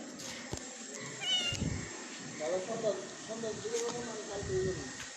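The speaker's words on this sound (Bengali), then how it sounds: "কালো বিড়াল" A black cat gives several short meows at close range, mixed with a person's calling and chatter.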